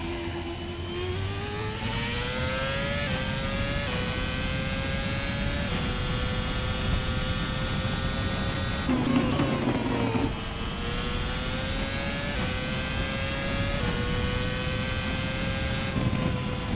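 Engine of the MSF FO 2013 racing car in Assetto Corsa, a steady high-pitched whine that climbs through the revs and drops at repeated gear changes, loud and continuous with no talking.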